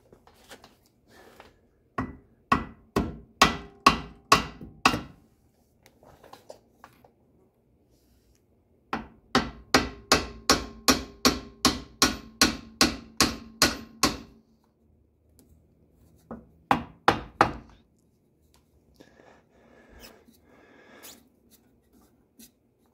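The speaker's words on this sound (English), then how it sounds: "I'm going to try and see if I can come up here and hit the side of this with a hammer and knock those off of there" A hammer strikes a part on a Mercedes W126 300SD, in rapid bursts of sharp metallic taps, each run of a dozen or so quick blows separated by pauses.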